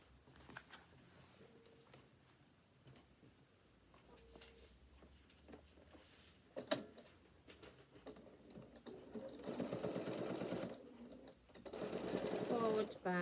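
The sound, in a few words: sewing machine stitching bag straps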